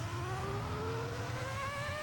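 A Ferrari F2004 engine drones at steady high revs at Monza in a racing game, faint and continuous, with a held tonal whine and no voices.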